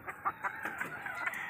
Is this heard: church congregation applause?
no